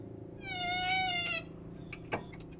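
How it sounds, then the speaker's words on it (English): An old metal door grill swings open with a long, loud, high creaking squeal that ends in a short metallic clack. "our front door had an old metal grill. So whenever someone opened it, it always make a loud creaking sound"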